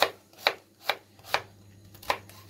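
A knife chops vegetables for lentil soup on a board, five crisp, close strikes in a steady rhythm about half a second apart, with no talking.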